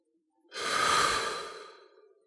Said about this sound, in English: close your eyes, take a deep breath.